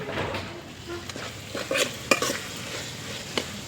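Tomato curry stirred in a pan on the stove, a low frying sizzle broken by several sharp utensil clinks and scrapes against the metal, close and moderately loud.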